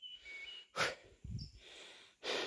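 Heavy, labored breathing and panting from a person worn out by hot weather, a few loud, breathy huffs and snorts close up, separated by short quiet gaps.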